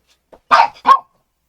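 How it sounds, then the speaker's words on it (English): A small dog lets out a couple of sharp, high barks close by, with a brief faint yip before them. "Freddy, what are you barking for?"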